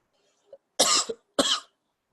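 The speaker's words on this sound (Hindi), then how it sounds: "मुझे जुकाम भी हो रहा है और खांसी भी हो रही है" Two sharp, raspy coughs from a person with a cold, close and loud, preceded by a faint throat noise, with silence in between.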